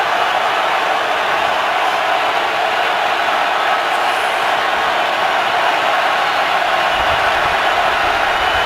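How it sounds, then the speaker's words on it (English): Steady, dense roar of a football crowd at Lambeau Field during a Chicago Bears at Green Bay Packers game, a broad continuous wash of noise holding constant throughout with no distinct voices standing out. "Third and 1 with the crowd roaring at Lambeau"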